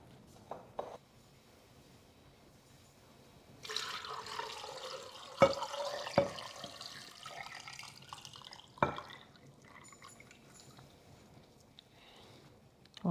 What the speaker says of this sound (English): then we're gonna go ahead and pour it on our eggs